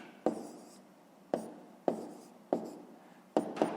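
Chalk or pen writing numbers during a fifth-grade math lesson: six short, distinct scratchy strokes with sharp attacks, spaced irregularly, close and fairly quiet with no talking.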